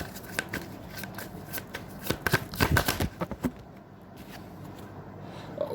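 Tarot cards shuffled by hand, a run of quick papery riffles and flutters that peak midway, then the deck settles into near quiet, close and clear with no talk.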